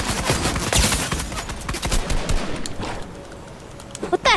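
Rapid Fortnite Team Rumble gunfire, dense bursts of automatic shots crackling close and loud, thinning out midway before a few final sharp cracks.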